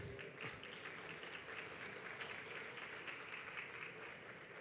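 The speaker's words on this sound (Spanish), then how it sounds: "Les brindamos un fuerte aplauso." Applause fills an official plenary session of the Mexico City transparency institute, as a roomful of people claps steadily and evenly at a moderate distance for several seconds.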